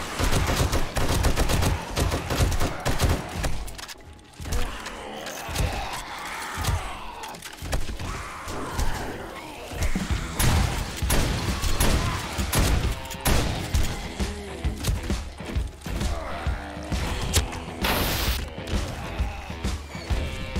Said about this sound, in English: Let's break in our new gun.